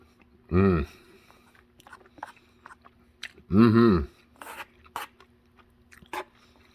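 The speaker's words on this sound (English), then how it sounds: "All right, let's give this a taste." Someone chews a mouthful of beef pasta marinara close to the microphone, with wet, squishy bites and mouth sounds, and two short bursts of speech interrupt the chewing.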